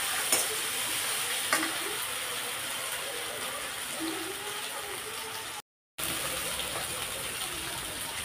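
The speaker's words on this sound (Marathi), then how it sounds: "कांद्यासोबत अद्रक लसूण पेस्ट लाल करून घ्यायची आपल्या इथं" Onion with ginger-garlic paste frying in a pan makes a steady, moderate sizzle with a few stirring clinks near the start, broken by a brief silent gap before continuing.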